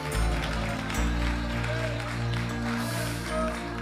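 A church congregation claps steadily together during a preached message, the dense clapping running through the whole stretch beneath sustained music and voices.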